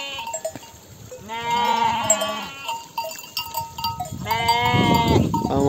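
Newly bought sheep on a highland summer pasture bleat in two clear bouts, a nearby wavering cry early on and another a few seconds later, over a quiet outdoor background with no talk.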